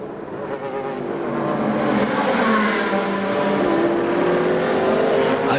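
Eric Van de Poel's race car, wearing number 1, running at the 24 Hours of Spa in 2006, its engine droning loud and close as the pitch climbs and holds, with a second tone rising underneath.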